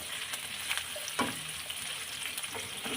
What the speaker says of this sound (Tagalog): prito-prito po natin ang ating bawang sibuyas